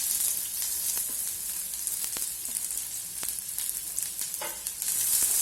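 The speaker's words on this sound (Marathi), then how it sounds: "आता मी कांदा टाकून घेणार आहे." Onion dropped into hot oil with curry leaves in a pan crackles in a loud, steady sizzle close by, with scattered pops and light stirring and no voices.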